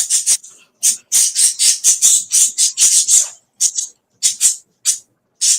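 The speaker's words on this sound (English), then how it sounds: "I can hear the birds." Pet birds squawking at night, a series of sharp, loud harsh calls in quick bursts with short pauses between groups, close and without talk.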